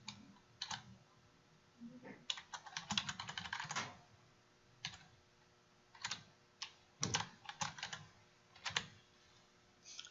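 Computer keyboard keys clack in quick irregular bursts as a title is typed, close and fairly quiet, with short gaps between runs of keystrokes.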